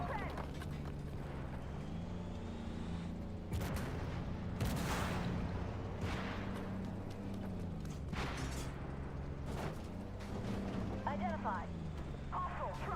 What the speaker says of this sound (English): It is gunfire, so it's expected to be loud